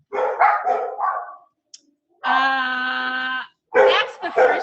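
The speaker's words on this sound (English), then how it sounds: "dogs are barking" Dogs bark in a few loud, close bursts with one sustained howl-like whine between them, while no one speaks.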